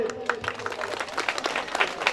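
Applause from an audience at a Baul music gathering welcoming a guest, steady clapping throughout with crowd noise and some voices mixed in.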